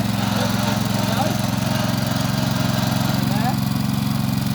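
A yellow heavy-duty rotovator tiller runs at low revs, its engine giving a steady, close, loud chugging drone with an even rhythmic pulse throughout.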